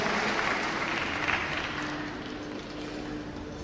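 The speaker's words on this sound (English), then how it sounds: "Let's give a big round of applause to our government and wish the beneficiary the very," An audience applauds at a state-level youth engagement program event, a dense steady wash of clapping that slowly tapers, heard from a distance in a large venue.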